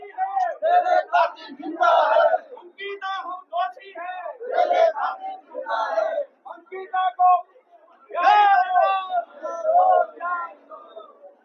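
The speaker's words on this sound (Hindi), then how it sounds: "आप देख सकते हैं कितनी भीड़ है" Protesters on a justice march in Salt chant in loud, rhythmic bursts with short pauses between phrases, a crowd of voices nearby and clear.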